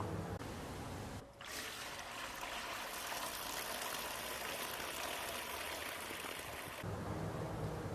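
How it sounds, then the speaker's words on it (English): Heavy simulated downpour pours onto a roof gutter fitted with a leaf guard, a dense, steady rushing hiss of water that starts abruptly and stops near the end. "where we have simulated a heavy downpour"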